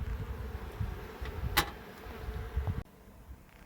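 Honeybees hum around an opened hive, a soft continuous buzz close by with one brief sharp tick partway through, quiet and alone.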